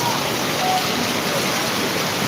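Heavy, unbroken rain pours down steadily during a storm that earlier brought hail and lightning in Jamkandorna, a dense even hiss holding at constant loudness throughout with no voices.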